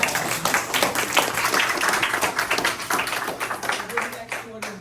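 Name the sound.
audience applause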